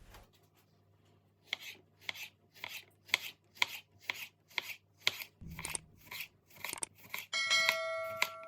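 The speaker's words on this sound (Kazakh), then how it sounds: "Келесі кезекте үгіршікті видеодағыдай тураймыз." Crisp, evenly spaced knife strokes cut through croutons on a board, about a dozen close, sharp chops in a steady rhythm in a quiet kitchen, ending with a brief scrape and a bright ringing tone.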